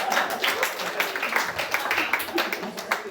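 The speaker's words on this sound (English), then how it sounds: "Clap it up for Lizzie, everybody." Comedy club audience at Asylum NYC claps for a comedian, a steady dense patter of hands filling the room, fairly close and sustained throughout.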